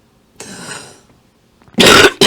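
A person coughs up close, one rough hacking cough followed after a pause by two sharp, loud coughs in quick succession.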